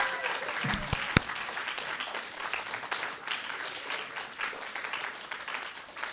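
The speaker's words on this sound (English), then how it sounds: "Please give one more round of applause to all 4 of our storytellers." An audience claps in sustained applause for four storytellers at a live storytelling event, a dense steady wash of hand claps continuing throughout with no pause.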